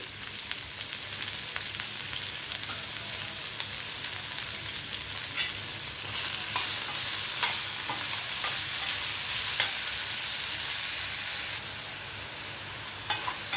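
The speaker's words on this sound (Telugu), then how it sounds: "ఇలా వేగనివ్వాలి. ఆనియన్స్ బ్రౌన్ కలర్ వచ్చే వరకు వేగాలి." Onions with a pinch of salt frying in a pan until browned, a steady close sizzle with occasional stirring scrapes throughout, no voices.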